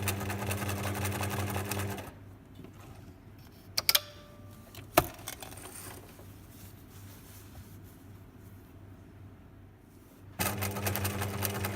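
A sewing machine stitches a buttonhole in a wrap skirt waistband, running in fast steady bursts at the start and end with a quiet stretch of faint clicks and taps in between.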